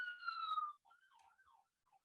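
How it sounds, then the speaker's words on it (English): Ambulance siren from the film Krampus, a loud wailing tone with harmonics that sweeps downward for most of a second, then trails off into fainter, wavering siren fragments, heard alone. "That's an ambulance."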